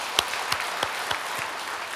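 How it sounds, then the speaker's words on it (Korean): A church congregation at a Sunday worship service claps for a deaconess, a short spatter of applause with several distinct louder claps spaced through two seconds. "우리 권사님께 박수 한번 보내주시면 좋겠습니다"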